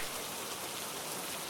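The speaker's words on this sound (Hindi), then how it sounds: "बारिश लगातार तेज होती जा रही थी।" Heavy rain pours steadily, a dense, even hiss of drops hitting surfaces with no pauses or voices.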